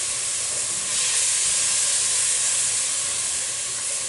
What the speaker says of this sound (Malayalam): ഈ വെളുത്തുള്ളിയുടെയും ഇഞ്ചിയുടെയും പച്ചമുളകിൻ്റെയൊക്കെ പച്ചച്ചുവന്ന് മാറുന്നത് വരെ നന്നായിട്ടൊന്ന് വഴറ്റിയെടുക്കണം